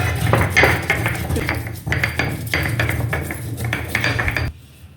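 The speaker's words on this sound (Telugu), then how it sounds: "ఫస్ట్ ఇలాచి కుమ్ముదాం" Green cardamom pods being pounded by hand for a sweet colostrum pudding, making a steady run of dull metallic thuds and clinks that cut off abruptly near the end.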